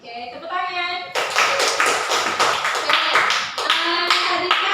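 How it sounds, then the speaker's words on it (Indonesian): Children in a classroom break into sustained clapping after a short spoken passage, the applause dense and close, with a few voices mixed in beneath it. "Ya, oke, tepuk tangan."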